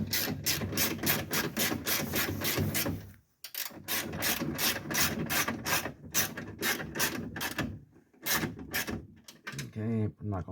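A screw is driven into a 2002 Ford Windstar door panel, a rapid ratcheting clatter running in bursts with a brief pause, close and fairly loud, with no talk.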